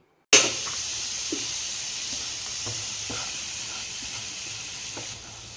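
Chopped onions fry in a pan with salt and turmeric, giving a steady, close sizzle that starts suddenly and holds level throughout, with a few faint stirring clicks.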